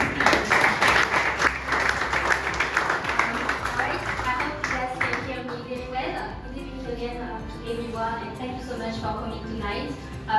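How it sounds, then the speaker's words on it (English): Applause from the audience at an evening business side event welcoming a studio co-founder. Loud clapping opens the clip, then thins and fades under music-like tones and murmuring. "with a round of applause, I guess"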